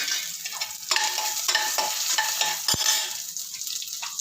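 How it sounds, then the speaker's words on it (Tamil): Curry leaves dropped into hot oil for tamarind pongal, crackling and sizzling steadily up close, with a spoon stirring and scraping the pan in short strokes. "கருவேப்பிலையும் போட்டுடுறேன்"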